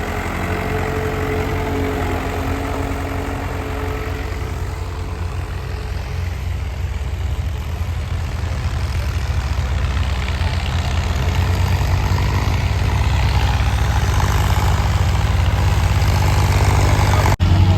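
A heavy vehicle engine, a tractor at a village tractor-pulling contest, idles and runs with a steady deep rumble close by, slowly swelling louder toward the end, no voices.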